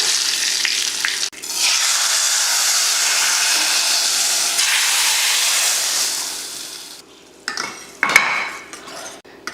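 Hot oil crackles and sizzles loudly and steadily as mustard seeds and curry leaves go into a pan for tempering a ridge gourd side dish, then fades, followed by a few clinks of a metal pan and utensil.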